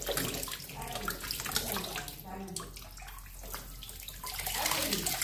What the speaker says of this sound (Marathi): थंड पाण्याखाली परत आता एकदा धुवून घेऊ चांगलं